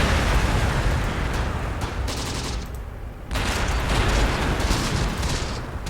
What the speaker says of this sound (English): Beautiful artillery strike, but again, I'm not sure we're actually getting any hits on the tanks.